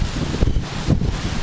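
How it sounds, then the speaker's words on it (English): Gusty wind blows outdoors against the microphone, a loud low rumble with a couple of stronger buffets, and no talking over it. "It's getting windy out here."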